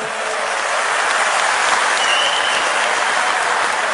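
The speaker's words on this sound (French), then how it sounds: "Vous avez aussi les mécènes et les bénévoles ici en rouge, qu'on peut applaudir aussi bien fort" Dense, sustained applause from a large audience at the WorldSkills 2023 opening ceremony in Lyon, cheering sponsors and volunteers dressed in red; the clapping is loud, even and continuous with no talk on top.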